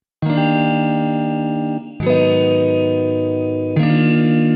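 Sustained distorted guitar chords ring out in a wash of roomy reverb, each chord lingering with a long ringing tail before the next one lands.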